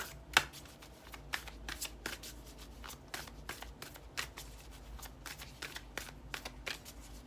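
A tarot deck shuffled for a reading, giving quiet, close, rhythmic card flicks and taps that carry on for several seconds without speech.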